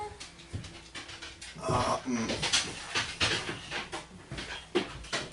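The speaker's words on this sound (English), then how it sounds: "That sound you're hearing is the dogs and Mika coming down the stairs" Dogs come down a flight of stairs indoors, with scrabbling paws, thumps and panting mixed with a person's steps at close range over steady room noise; speech is heard briefly.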